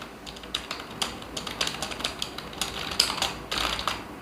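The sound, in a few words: typing on Realme Pad keyboard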